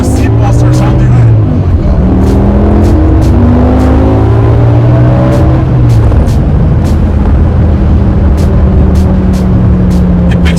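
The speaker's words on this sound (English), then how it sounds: "That engine sound. It just finds its way into the car." A BMW E60 M5 engine revving as heard from inside the car, loud rising and falling engine tones climbing through the gears, with people talking over it.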